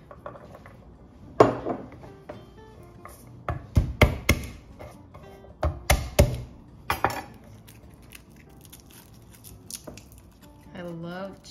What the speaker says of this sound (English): I love chopping garlic.